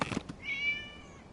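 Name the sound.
cat meowing in Genshin Impact video game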